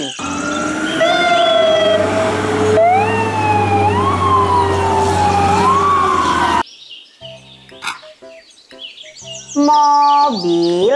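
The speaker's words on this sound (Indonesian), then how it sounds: "Mobil truk pemadam kebakaran" A wailing electronic siren rises and falls loudly for several seconds, then gives way to chirpy toy tones and beeps.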